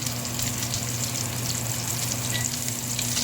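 Salmon pan-searing in a frying pan gives a steady, close, dense sizzle and crackle of hot oil with a low hum beneath, continuous throughout without talk.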